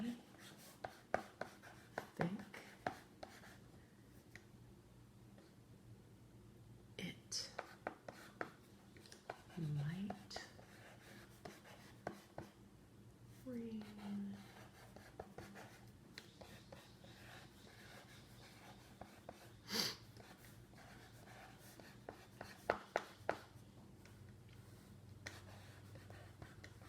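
A teacher writes phonics words on a board: faint, scattered taps and short scratchy strokes come in small irregular clusters over a quiet room, with occasional soft murmured sounds.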